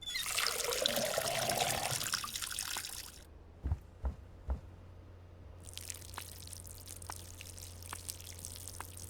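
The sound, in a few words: watering a weed seed in Schedule 1 video game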